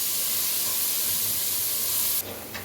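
Garlic-ginger paste hits hot oil with browned onions in a chana pulao, giving a loud, steady hiss of frying that cuts off abruptly near the end, leaving a softer sizzle.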